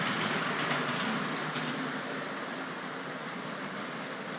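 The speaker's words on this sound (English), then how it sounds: "you'll see in a moment in the footage I've shot the great big Triang train" Triang model train running on its track at a train collectors' show, a steady, continuous rolling rumble with a faint clickety-clack that holds even throughout, with no voices over it.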